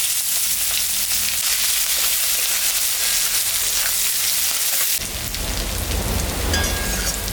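Onions and whole spices (cardamom, cinnamon, dried chillies, cumin) fry in hot oil, giving a steady loud crackling sizzle that jumps sharply louder about two-thirds through as the onions hit the pan; no talking.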